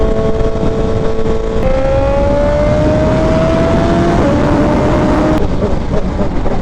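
Suzuki Hayabusa motorcycle engine droning loudly while riding, with a steady whine that holds, shifts to a new pitch and climbs again, wind and road roar underneath.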